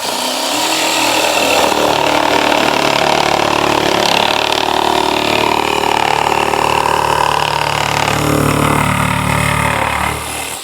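A WORX AXIS 2-in-1 cordless jigsaw cuts through a board with a loud, steady buzzing whine that runs unbroken for about ten seconds, then eases off at the end.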